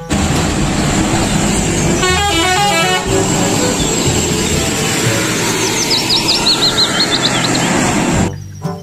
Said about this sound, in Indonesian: Yang ini ada mobil bus telolet.